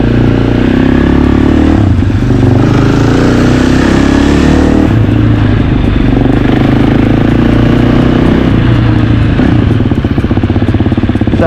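Motorcycle engine revving and pulling away as a rider heads off to join a group ride, loud and close, with rising and falling throttle surges and some clatter, no speech.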